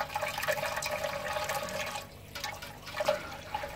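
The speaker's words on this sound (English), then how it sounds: "I've got the aeration hose in there, adding air to it as I fill it up" Beer wort pours and splashes into a fermenter during a stout brew day, with an aeration hose bubbling air into it; a steady close liquid rush and gurgle runs throughout with no talking.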